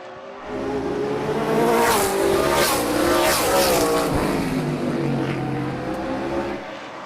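Race cars at a short-track heat race roaring around the oval, engines loud and continuous with rising and falling revs as several cars pass close by, a pack sound that swells and fades over the whole stretch.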